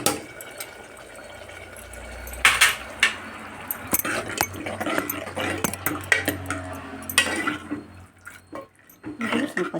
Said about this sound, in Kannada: ಈಗ ಹೆಚ್ಚಿದ ಅವರೆಕಾಳನ್ನ ನಾನು ಈ ಕುಕ್ಕರ್ಗೆ ಹಾಕಿ